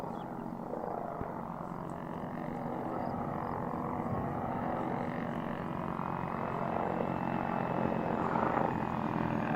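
A video-game helicopter drones steadily at a distance, a constant low rotor and engine rumble that holds without any clear approach or fade.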